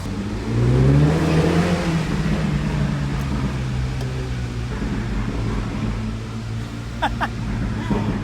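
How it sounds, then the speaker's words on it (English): A Porsche drives past loudly, its engine roaring up close with a deep rising and falling growl that dominates, then recedes into a steady rumble with brief clicks near the end. "That is amazingly loud. There goes the Porsche."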